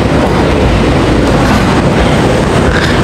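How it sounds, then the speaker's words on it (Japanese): A train set with LC cars pulls into a station with a loud, steady rumble of rolling wheels and car noise, close by and continuous with faint clattering, and no voices. "LC カーの編成の到着です。"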